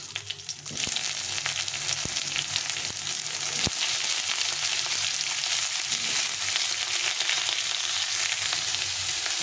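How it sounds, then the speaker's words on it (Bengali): Dried chilli, bay leaves and cumin seeds sizzle steadily in hot oil for a Bengali tempering, a continuous close frying hiss with faint crackles and no talking. "এখন একটু শুকনো লঙ্কা আর দুটো তেজপাতা আর জিরে ফোড়ন দেবো"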